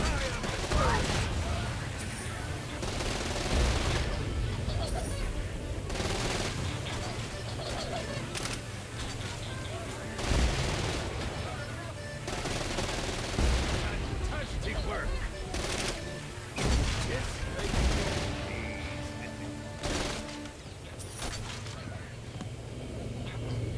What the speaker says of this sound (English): This is probably a job for the SMGs.